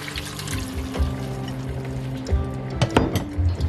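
Water poured into a cooking pot while preparing a Haitian conch dish, a soft splashing trickle over steady background hum, with a few louder knocks and splashes near the end.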